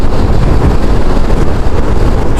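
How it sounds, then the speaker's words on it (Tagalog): Strong wind roars across the microphone on a nighttime motorcycle ride on an Aerox V2 scooter, a loud continuous rumbling buffet with no speech. "ang lakas ng hangin."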